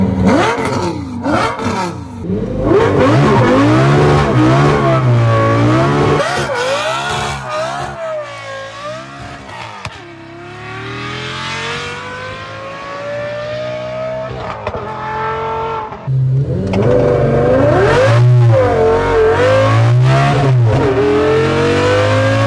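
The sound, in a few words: Volvo car with Lamborghini engine revving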